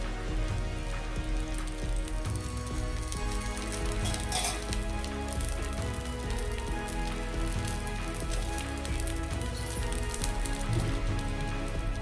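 Potato dosa sizzling on a hot pan with a little added oil, a dense continuous crackling hiss that holds steady and close throughout, with no voices.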